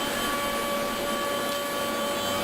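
The vacuum hold-down on a panel cutting machine gives a steady, loud, whooshing roar with a constant high whine, unbroken and close for the whole stretch with no talk.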